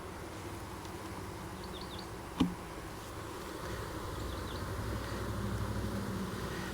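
Honeybees in a seven-frame nuc give off a faint, steady buzzing hum throughout, with one brief sharp knock partway through and no one talking.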